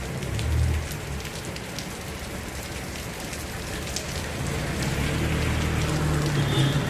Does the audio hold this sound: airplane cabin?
no